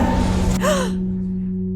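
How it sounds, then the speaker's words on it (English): A woman in an animated scene wakes with a sudden sharp gasp, followed by a quick falling breathy tone and fading heavy breathing, close and clear over a low steady background hum. "Jean wakes with a start, a sharp gasp, breathing heavily."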